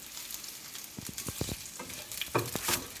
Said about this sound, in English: So they're slowly getting brown on the outside and also the sesame seeds are getting nicely stuck to them too